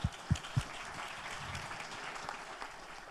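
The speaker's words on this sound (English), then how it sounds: "give a big clap to the translators" A conference audience claps for the translators, a steady, moderately loud round of applause following a few thumping knocks at the start.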